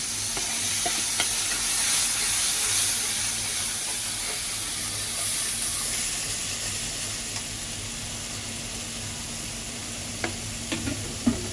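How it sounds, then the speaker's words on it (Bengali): Masala paste of ground cumin, garlic, turmeric and chili fries in a pan with a steady, close sizzle and faint stirring scrapes throughout, ending with a few light clinks. "মশলাটা কষানো হয়ে গেছে"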